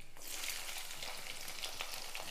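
Ten chopped small onions fry in a pan with a continuous close sizzle that stays bright and steady, with no talking.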